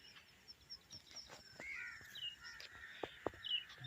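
Outdoor bird calls in a village in the morning, including harsh crow-like caws and scattered chirps, ring out intermittently at a moderate distance over quiet background.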